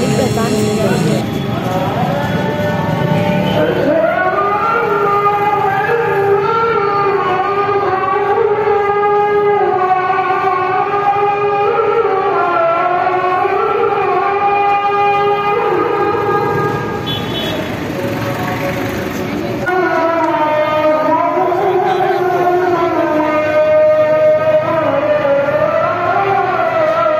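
The Maghrib call to prayer rings out from Madina Mosque on Tariq Road in Karachi, a loud, long amplified voice holding and sliding through melodic phrases, with a brief pause and street traffic faintly beneath.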